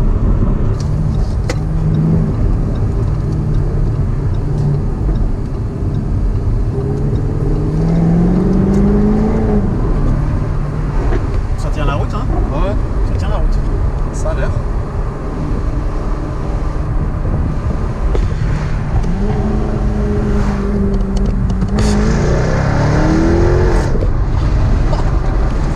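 A Jaguar four-wheel-drive car accelerates, its steady engine drone rising in pitch in several sweeps, loud and continuous throughout from inside the cabin.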